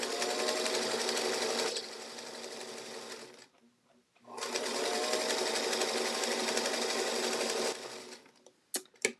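A sewing machine piecing quilt fabric runs in a steady loud whir, pauses for a couple of seconds, then runs again before a few sharp knocks at the end.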